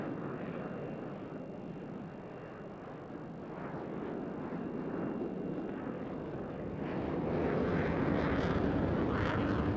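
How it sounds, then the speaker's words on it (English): The two Turbo Union engines of a Tornado jet roar on reheat at an RAF air show at night, a broad, continuous rumble that swells louder toward the end, heard from a distance. "Two big Turbo Union engines lighting up the dark sky with their reheat."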